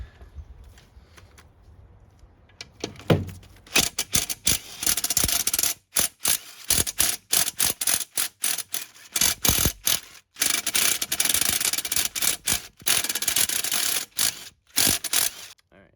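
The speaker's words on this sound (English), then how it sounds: "these ones are gonna be a little difficult to take out" Ratchet working sealed bolts out of a Nissan CD009 transmission case during disassembly, starting quiet, then long runs of loud, close, rapid clicking broken by short pauses and a few metallic knocks.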